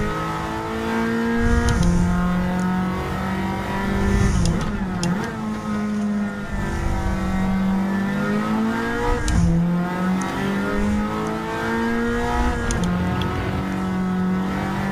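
A Toyota Celica race car engine in a GTCC championship racing video game revs loudly and continuously, pitch rising and falling through gear changes as the car slides slightly sideways, close and alone.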